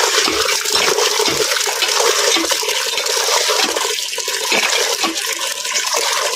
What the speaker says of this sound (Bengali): পিঠা খাওয়া শেষ করে কিছু শাক ধুয়ে নিচ্ছিলাম।